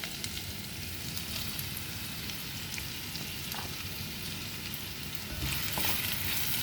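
Garlic, onion, pork belly and tomato sauté in hot oil with a dense, continuous sizzle that stays at an even level. It grows slightly louder near the end as stirring stirs it up.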